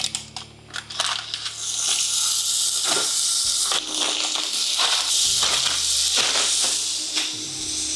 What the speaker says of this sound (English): Now to add in the patties.